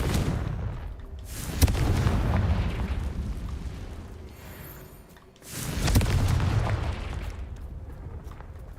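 Two deep booming Confringo spell explosions from the video game Hogwarts Legacy, each a loud sharp crack followed by a rumbling roar that dies away, a few seconds apart.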